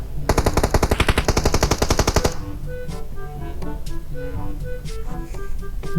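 A fast, loud burst of automatic rifle fire in PUBG Mobile rattles close by for about two seconds, then gives way to quieter game music and faint scattered effects.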